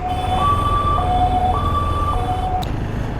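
An ambulance siren wails nearby in a two-tone alternating pattern, steady and loud over low traffic rumble in a Kolkata traffic jam.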